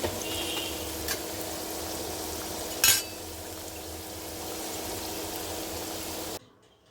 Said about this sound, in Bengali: উল্টে পাল্টে দিয়ে ভেজে নিই।